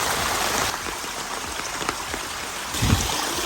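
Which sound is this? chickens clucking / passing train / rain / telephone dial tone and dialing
rain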